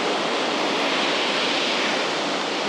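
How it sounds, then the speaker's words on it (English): A steady, dense wash of falling water from a waterfall along an Albanian hillside trail, a constant broadband roar with no breaks and no voices. "I gotta stop staring at the waterfall, gazing at the waterfall"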